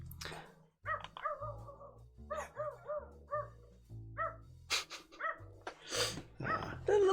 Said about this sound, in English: little neighbor dog is getting picked up.